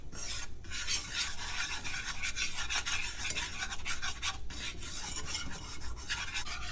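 Butter and flour stirred in a pan for a bechamel sauce: a continuous close scraping rasp with brief pauses, no voices.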